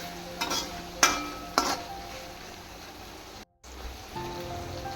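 Masala spices cooking on a low gas flame for Mexican rice, a soft continuous sizzle with a few sharp stirring scrapes near the start and a brief dropout, no talking.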